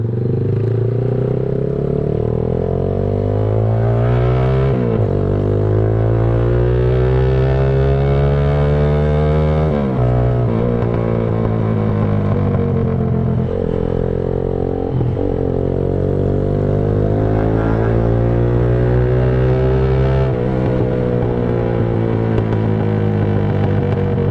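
A Z200 motorcycle fitted with an Austin Racing exhaust revs up through first, second and third gear, its loud, raspy note climbing and dropping with each shift, close by and without speech.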